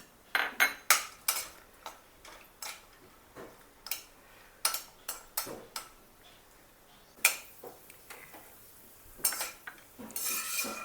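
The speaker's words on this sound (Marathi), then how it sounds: "तूप गरम झालेलं आहे. त्याच्यामध्ये थोडे काजू आपण फ्राय करून घेऊया" A spoon clinks and scrapes against a metal kadai while cashews fry in hot ghee, sharp irregular taps and stirs over a faint background sizzle.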